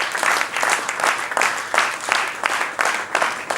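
Audience applause for a priest at a church evening gathering, a steady wash of many hands clapping with rhythmic swells, fairly loud and close throughout.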